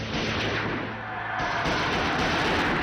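Gunfire sound effect for the three 9 mm shots fired at Pope John Paul II in Saint Peter's Square. It is a loud, dense, booming burst that continues throughout, with no talking.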